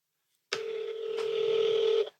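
A phone number is dialed over a speakerphone, heard as a single sustained electronic tone that starts abruptly, holds for about a second and a half, and cuts off cleanly.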